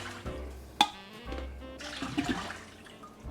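Broth from a carton pours into a soup pot for taco soup, a splashing liquid stream with a sharp clunk near the start and some gurgling and knocks, close and moderately loud.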